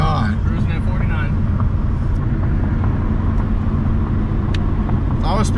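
Mustang GT fitted with catless long-tube headers and a Corsa Extreme cat-back exhaust, cruising in high gear at low revs: a steady, deep droning exhaust and road rumble heard from inside the car, with voices talking over it.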